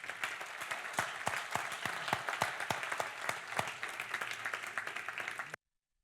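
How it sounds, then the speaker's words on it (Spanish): An audience applauds the round-table speakers at a conference assembly, a steady burst of many hands clapping for about five and a half seconds before cutting off abruptly. "y pido un aplauso para ellos."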